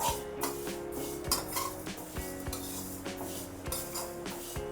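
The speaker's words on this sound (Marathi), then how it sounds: "आता ही उडदाची सुद्धा आपल्याला काही मुगाच्या डाळीसारखी थोडीशी भाजून घ्यायची आहे" Urad dal dry roasting in a pan over a medium flame, with repeated scraping and clinking of a stirring spoon against the metal and faint crackle, fairly quiet.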